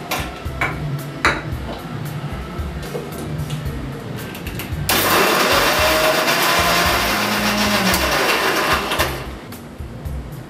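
A blender whirs loudly as it mixes a banana and orange smoothie with curd and sugar. It starts abruptly partway through, runs steadily for about four seconds, then cuts off, with faint kitchen clatter before and after.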